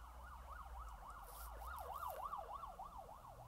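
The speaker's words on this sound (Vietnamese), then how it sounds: "tiếng hú của xe cứu thương" An ambulance siren wails in a steady rising and falling cycle, fairly distant and faint, over low traffic rumble.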